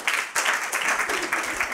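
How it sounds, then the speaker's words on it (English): A church congregation claps together in praise during a live worship service, a loud, dense wash of many hands applauding steadily for a couple of seconds with no talk over it. "Can we give the Lord a hand clap of praise tonight?"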